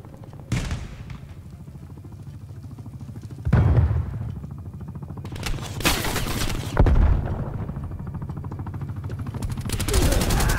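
Loud gunfire bursts from Call of Duty: Cold War hardcore team deathmatch, with sharp rapid-fire volleys at intervals and a busy game soundscape between them.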